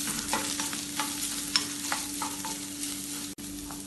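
Sliced onion and garlic sautéing in a pan for a Kerala-style bitter gourd curry, with steady soft sizzling and intermittent scraping stirs of a spoon, close and fairly quiet, without talk.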